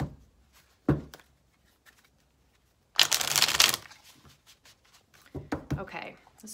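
Rustling tarot card shuffles in short bursts, a brief riffle near the start and a longer, louder flurry midway, then more shuffling toward the end, close and clear.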